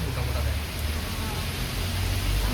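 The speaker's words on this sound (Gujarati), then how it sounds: "તો વરસાદ છે, બહાર દેખાતો એમ" Rain falls outside at night onto waterlogged ground, making a steady, even hiss of dense drops that fills the whole moment without pause.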